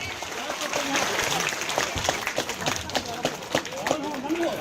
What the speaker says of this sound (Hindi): जोरदार ताली, जोरदार ताली।